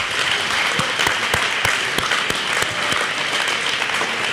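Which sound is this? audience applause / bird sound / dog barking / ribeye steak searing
audience applause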